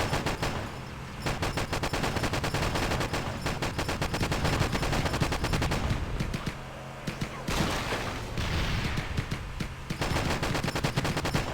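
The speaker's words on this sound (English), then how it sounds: "I always love it in games when you're shooting the automatic rifle and one gunshot sound effect cuts off the next one like this one does." Rapid automatic rifle fire in the Halo video game, a steady stream of gunshots in which each shot cuts off the one before, loud and continuous with only brief dips.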